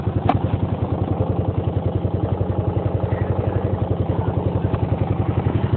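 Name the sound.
1986 Honda dirt bike engine running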